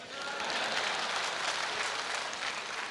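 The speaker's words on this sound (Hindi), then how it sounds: "जो लोग ताली नहीं बजा रहे, उनके सपने में लालू प्रसाद यादव आएगा।" Audience applause at a live stand-up comedy show in Delhi, a dense, steady roar of many hands clapping that fills the whole stretch without a break.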